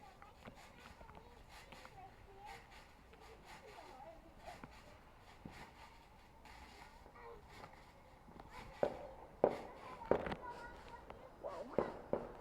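Fourth of July fireworks bursting at a distance, a string of sharp cracks and pops growing louder and denser toward the end over low crowd murmur and chatter.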